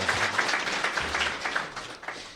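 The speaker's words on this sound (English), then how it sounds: "Ladies and gentlemen, please, once again, help me applaud that gentleman" Audience applause for a gentleman at an ISO 9001 certification ceremony, a steady dense wash of clapping that stays even throughout and tapers slightly at the end.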